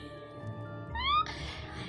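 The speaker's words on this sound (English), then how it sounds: "There's a cat in that game." A cartoon cat character from the video game Animal Crossing gives a single short rising meow near the middle, heard over a steady background of game music and hum.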